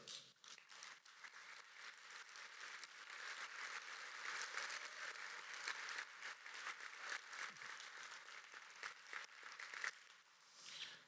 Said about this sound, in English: How about one more big round of applause for all of those 4 innovation stories?